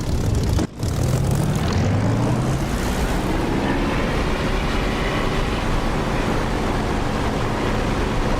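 Propeller aircraft engine in a DCS flight simulator throttling up for takeoff, a steady loud drone with a rising whine and a brief dip near the start, then a constant roaring hum throughout.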